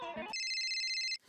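A telephone rings with a bright electronic ringtone, a steady warbling tone lasting about a second, right after a brief voice.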